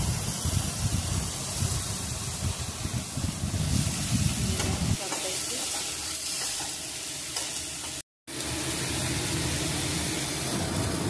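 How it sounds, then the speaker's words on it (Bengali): Ginger paste with bay leaf and panch phoron frying in oil in a pan for Bengali dudh shukto: loud continuous sizzle and hiss with scraping stir strokes, the low churning easing midway and a brief dropout before the sizzle resumes. "দিয়ে এবার মশলাটাকে একটু ভাজা ভাজা করে নেওয়া হচ্ছে"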